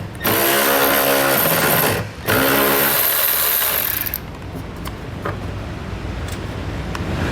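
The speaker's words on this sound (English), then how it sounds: "We're gonna use a 10mm socket to get those removed." A power tool drives a 10mm socket to back out bolts under a 2012 vehicle while a Curt trailer hitch receiver goes in, a loud steady whir in two bursts with a short pause, then fading to quieter shop noise.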